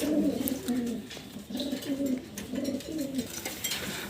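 A pair of king white pigeons cooing close by, repeated low soft coos in a steady rhythm with faint background noise.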